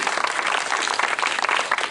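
An audience claps in a brief, dense burst of applause at an open-air public meeting at Freedom Square, JNU, the claps fairly close and continuous.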